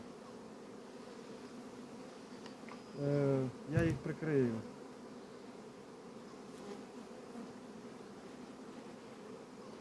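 Honey bees hum around a split hive in a low, continuous buzz, while a nearby voice briefly speaks over it partway through.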